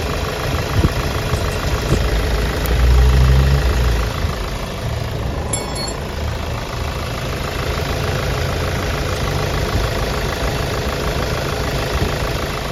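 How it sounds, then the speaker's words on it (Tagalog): A Hyundai Starex VGT diesel engine idling with a rough, knocking rumble, steady and close throughout with a slightly louder patch early on and no talking. "umandar na. Medyo gumanda yung minor niya mga kayabi kaysa kanina mga kayabi."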